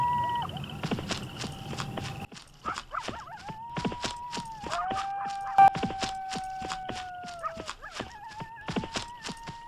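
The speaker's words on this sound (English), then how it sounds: "I think there are 2 horses" Rhythmic hoof clip-clops of two horses in an animation, mixed with repeated dog barks and a long high whine, no voices.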